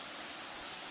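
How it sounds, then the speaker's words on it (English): Steady broadband rush of a man-made waterfall flowing below a bridge in Tishomingo State Park, heard from above as a constant, fairly faint wash of falling water with no voices. "The waterfall is down below us. Even though it's man-made, it's still a waterfall."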